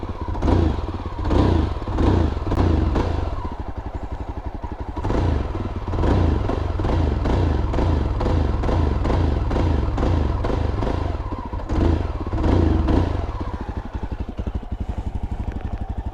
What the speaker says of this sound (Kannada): ಗಾಡಿ ಶಾರ್ಟ್ ಮಾಡಿಬಿಟ್ಟು ಒಂದು ಸಲ ಎಕ್ಸಾಸ್ಟ್ ನೋಟ್ ಕೇಳೋಣ